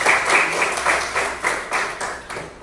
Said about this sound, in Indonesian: kasih tepuk tangan untuk mereka juga